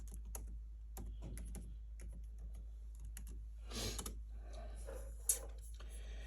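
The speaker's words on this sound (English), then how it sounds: "Let me put my password in." Quick bursts of keystrokes on a computer keyboard as a password is entered, faint clicky taps in short clusters against a quiet room hum, ending with one sharper key press.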